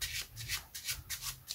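Playing cards riffle and rub through repeated overhand shuffle strokes in a false shuffle, a steady rhythm of soft, close papery swishes with no voice.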